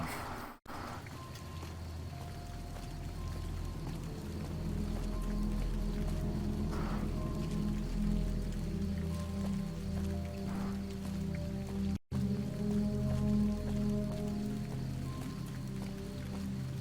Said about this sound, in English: Yay, it's raining.